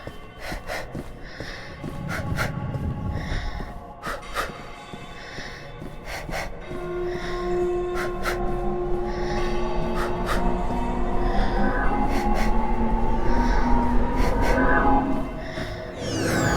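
Heavy, drawn-out character breathing from a video game, loud gasping inhales and snorting exhales repeating steadily over a droning, rising mechanical background.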